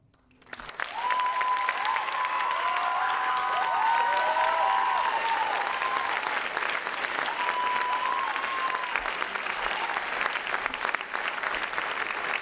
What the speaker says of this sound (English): Can we give Melissa one more warm round of applause?